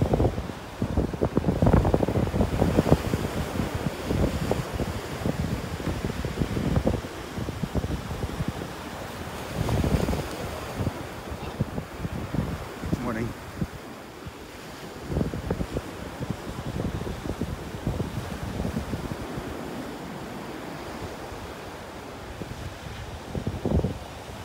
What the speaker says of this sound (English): Ooh, windy up here.